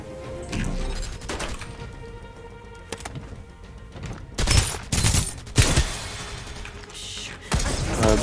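Gunfire in the online shooter Farlight 84, several loud cracking bursts and single shots, separated by quieter game ambience.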